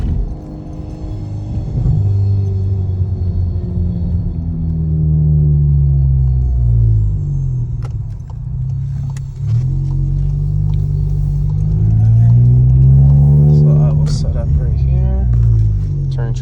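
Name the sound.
car engine revving on a launch-control full-throttle pull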